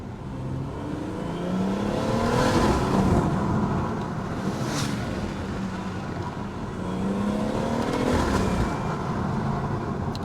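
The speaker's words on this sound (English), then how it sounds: "Does sound quite nice. You get a bit of a coming from the exhaust when you change gear." BMW M140i engine and exhaust heard from inside while driving, a steady drone that swells and eases with throttle, rising twice through the gears with a brief exhaust crackle on a change, no talking.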